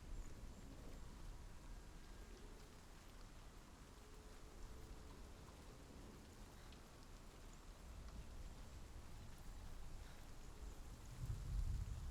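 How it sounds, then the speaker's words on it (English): Steady rain falls across a landscape in Hellblade: Senua's Sacrifice, a soft continuous hiss at low level with a faint rumble swelling near the end. "it started raining"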